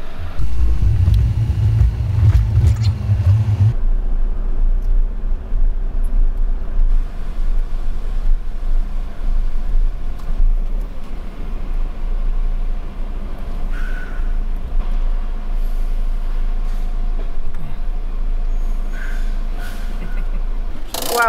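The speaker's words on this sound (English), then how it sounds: "Just letting these big trucks on now," Big trucks rolling onto a ferry, a heavy low engine rumble and drone that runs steadily throughout, with a louder deep burst near the start and faint clanks and higher noises scattered over the hull's hum.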